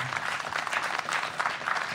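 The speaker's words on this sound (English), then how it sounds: "Very, very warm round of applause for Matt Pridham." Steady applause from a crowd, a dense patter of clapping hands continuing without a break.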